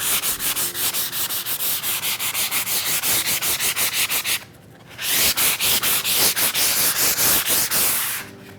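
Steady back-and-forth rubbing scuffs painted wood lettering to distress it, a rapid rhythmic rasp close to the ear that pauses briefly midway and then resumes at the same pace, with no voices.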